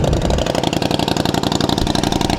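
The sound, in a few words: 2009 Buell 1125R motorcycle engine idling, loud exhaust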